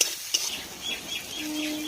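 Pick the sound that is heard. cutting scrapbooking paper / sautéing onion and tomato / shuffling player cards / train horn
sautéing onion and tomato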